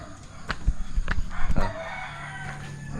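Chickens at a backyard coop, with a rooster crowing and hens clucking close by over rustling and outdoor ambience.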